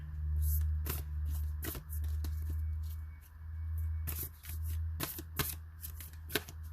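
Oracle cards being shuffled by hand, a series of crisp riffling bursts at irregular intervals, close and fairly loud over a low steady hum, with no talking.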